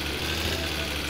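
A diesel car engine idles in My Summer Car, a steady low rumbling drone with a slightly rough, knocking texture, loud and close throughout the short moment.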